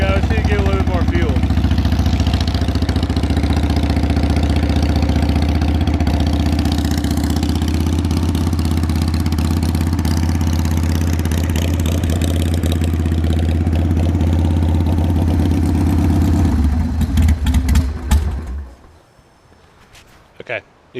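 A Harley-Davidson Sportster engine idles on choke during a tune-up, giving a loud, steady, close-up low rumble. Near the end it sputters briefly, then cuts out.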